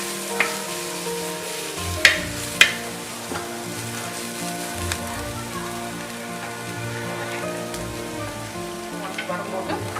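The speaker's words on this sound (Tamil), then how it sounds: "நல்ல வாசனை வர அளவுக்கு வதக்கிடணும்." Steady, dense sizzle of ingredients sautéing in a clay pot for a fish curry, with a few sharp clinks of stirring near the start, close and fairly loud without talk.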